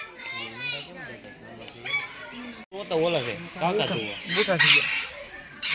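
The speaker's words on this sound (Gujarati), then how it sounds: "આ કેવું પક્ષી કહેવાય નામ આ બધા લખેલો નથી બોર્ડમાં આ બધું પોપટ" Parrots at Chotila hill give repeated loud, harsh squawks close by, mixed with people talking and chatter in the background.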